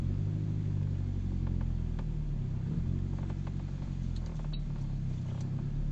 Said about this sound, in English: I'm backing out of my driveway.